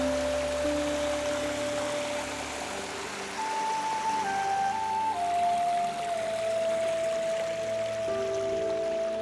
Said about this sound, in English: I just love the sound of the water.